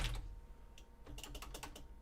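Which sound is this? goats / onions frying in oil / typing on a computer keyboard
typing on a computer keyboard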